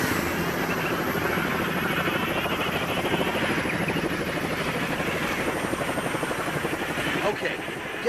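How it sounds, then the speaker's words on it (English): A helicopter touches down nearby in the VR game National Geographic Explore VR, its rotor thumping steadily and loudly for several seconds as a broad roar. "get to the helicopter and we'll fly you back to the ship"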